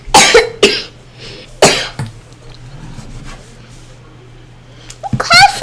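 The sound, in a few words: cough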